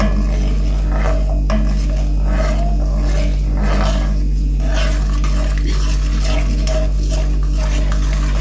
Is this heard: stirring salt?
yes